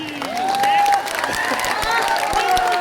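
A crowd claps at a political rally, a Bihar Badlav Sabha held in Samastipur, with a steady patter of hands spread across the whole moment while voices carry over it.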